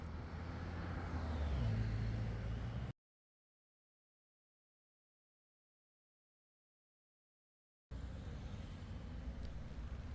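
Heavy road traffic rumbles around a busy roundabout, with a slow lorry's deep engine drone close by, then the sound cuts to total silence for several seconds before the traffic noise returns.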